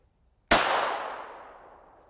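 A single loud, sharp gunshot from a pistol firing a Hornady Critical Defense 95 grain Makarov round, cracking suddenly out of silence and then ringing down in a long fading decay.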